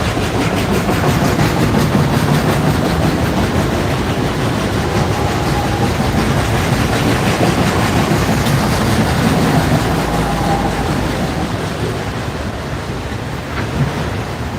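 A long CSX freight train passes on the Chattanooga Subdivision at Cowan, Tennessee. A loud, steady, close rumble and roar from the rail cars carries on without a break, with no talking.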